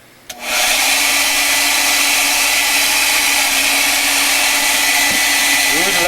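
A hair dryer switches on after a brief click and blows steadily and loudly to dry acrylic paint on a miniature painting, with a whooshing airflow that holds constant to the end.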